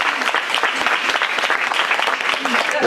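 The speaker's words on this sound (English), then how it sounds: "Let's give her another round of applause." A crowd at an art awards ceremony during the Houston Art Crawl gives a winner another round of applause, a brisk, fairly loud spatter of many clapping hands with a voice speaking over it.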